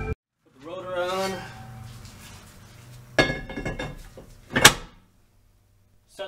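Metal brake rotor slid onto a rear hub of a 2011 Saab 9-4x XWD, giving a couple of sharp clinks and knocks close up after a quiet stretch, with a voice talking earlier.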